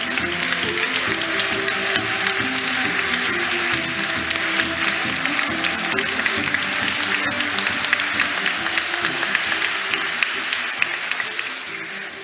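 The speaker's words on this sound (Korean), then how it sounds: "여러분 큰 박수로 환영해 주시길 바랍니다." Steady applause from a large crowd at an APEC leaders' dinner, continuous clapping that holds at an even level throughout.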